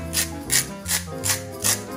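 Hands rub salt and ground pepper into chicken pieces, giving five rhythmic rasping strokes, close and fairly loud, with no talk.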